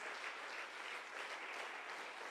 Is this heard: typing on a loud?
no